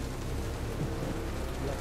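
Steady rain pours throughout a stormy night scene in Telltale's Jurassic Park video game, a dense continuous hiss with a low rumbling undertone and no clear breaks.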